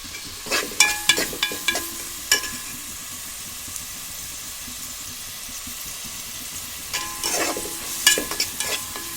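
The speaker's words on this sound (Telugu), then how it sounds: "బ్రౌన్ రంగు వచ్చేదాకా వేసుకుని కలుపుతూ ఉండాలి, మాడిపోకుండా" Masala browning in a pan for punugulu pulusu gives a steady soft sizzle, with bursts of scraping and clattering as it is stirred near the start and again near the end.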